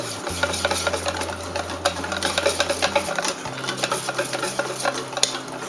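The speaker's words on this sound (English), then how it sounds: "Okay, so you mix in your oil." A spoon stirs oil into egg-free pancake batter in a bowl, making a steady wet scraping and swishing that keeps up a quick rhythm close by, with a low hum underneath.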